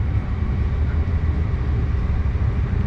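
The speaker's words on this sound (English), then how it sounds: "So that's a train underfoot there" A train passing beneath a road bridge on Glenferrie Road in Malvern, Melbourne, heard as a loud, steady low rumble and roar that holds constant throughout, with no talking.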